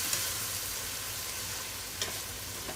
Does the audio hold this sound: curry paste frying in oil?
yes